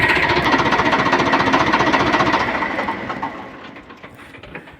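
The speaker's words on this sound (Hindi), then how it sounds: "एक बार इस ट्रैक्टर की मैं आपको आवाज़ और चेक करवा देता हूँ।" A Farmtrac 60 tractor's diesel engine running with a rapid, even knocking chug, loud and close at first, then gradually fading as it settles lower.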